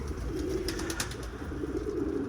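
Pigeons coo in a coop, soft throaty rolling calls repeating close by over a low background hum, with faint rustling between them.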